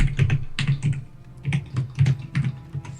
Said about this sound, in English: your keyboard is louder than your voice